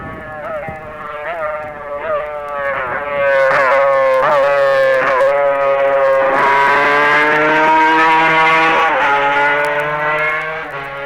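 High-pitched screaming exhaust of a Honda 50cc twin racing motorcycle revving to 20,000 RPM at the TT races, rising and falling through gear changes, loud and close, growing stronger as it passes.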